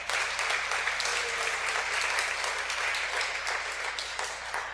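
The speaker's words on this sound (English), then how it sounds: "yes, you can applaud loudly for that" A congregation at a Unitarian Universalist worship service applauds loudly, a dense, steady wash of many hands clapping that holds at an even level throughout.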